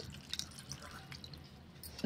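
Water trickles and drips into a bowl of besan and curd batter, with faint wet splashes and small plops, heard quietly and close up with no speech.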